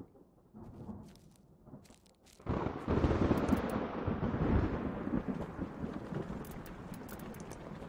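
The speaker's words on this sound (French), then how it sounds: "le son du tonnerre est juste monstrueux." Thunder in the horror video game Blair Witch: quiet rumbling gives way to a sudden loud, deep crash that rolls on as a sustained heavy rumble with rain-like hiss, slowly easing.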